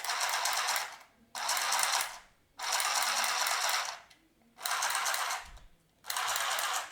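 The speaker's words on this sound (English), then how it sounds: "Make sure you hold the cloth material well," A portable handheld sewing machine stitches through cloth in four steady whirring runs of about a second each, separated by short pauses, close and fairly loud with no talking.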